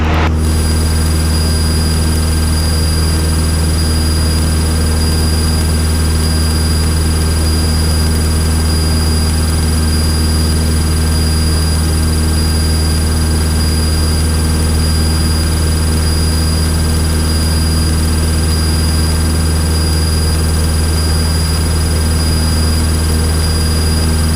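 A Cessna's engine drones loud and unbroken from inside the cabin during a flight lesson, with a steady propeller hum and no voices.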